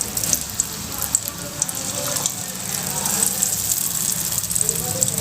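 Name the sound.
food frying in hot oil in a pan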